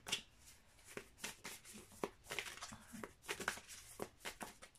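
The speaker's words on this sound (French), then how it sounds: "je dépatouille les cartes et je reviens" Tarot cards being shuffled by hand, a quick run of soft papery riffles and slaps repeating steadily, close and fairly quiet with no talking.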